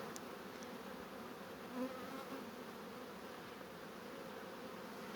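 Honeybees in a 10-frame hive drone in a steady, even buzz that holds throughout, with individual insects humming close by.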